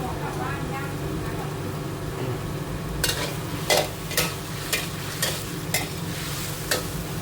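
Steady sizzling from a hot pan of stingray meat being stir-fried, joined midway by a series of sharp scraping stirs at a regular rhythm.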